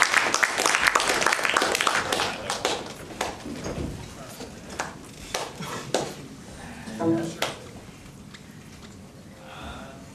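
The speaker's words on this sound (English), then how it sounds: "So let's give him a round of applause." Audience members at a spring meeting clap for a speaker, loud scattered applause at first that thins into sparse claps, knocks and handling noises, with people talking over it.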